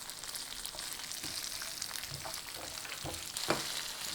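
Cumin seeds crackle in hot oil with coriander seeds and sesame for a cluster bean chutney, a faint continuous sizzle with scattered small pops and one sharper crackle.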